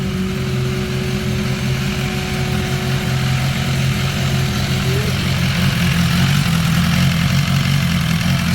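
Steady idle of a 2018 BMW S1000XR motorcycle engine running during a stator replacement check, a constant loud hum with no pauses and no talking.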